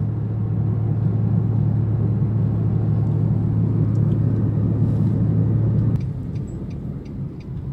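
A car drives slowly along a city road during a driving lesson, giving a steady low engine rumble and road noise from inside the cabin that drops after a brief shift near the end, with no talking heard.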